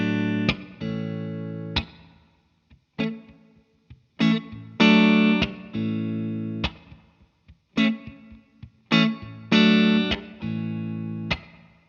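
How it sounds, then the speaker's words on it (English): An electric guitar through a Fender Tre-Verb pedal plays bright chords and single notes in separate bursts, each ringing out with a warm, splashy spring reverb tail between phrases. "It's a very nice, sort of warm spring reverb sound."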